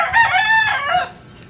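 A backyard rooster crows once, close and loud, a short strained call that trails off at the end.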